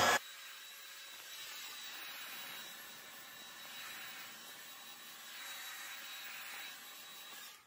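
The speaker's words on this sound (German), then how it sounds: "könnt ihr auch ohne Kämmen einfach mal föhnen" A hair dryer blows steadily on freshly worked-in pomade-styled hair, a constant airy whoosh running alone for several seconds after a brief click at the start, with slight swells in the airflow.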